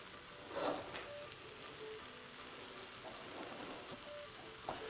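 Beaten egg sizzles quietly in a hot wok in the middle of noodles, a gentle continuous frying crackle with a few faint clinks and no voices.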